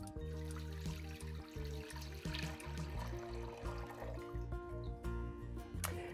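Water, about 4.5 cups, pours steadily into a pot set on an induction burner on the stove, a continuous splashing stream that lasts the whole stretch with no talking.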